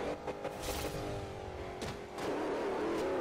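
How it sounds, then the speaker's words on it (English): A SWAT van engine in Forza Horizon 2 blips and growls through several downshifts, revving up and dropping in pitch with brief thumps, fairly close and moderately loud. "I love the downshifts in this thing."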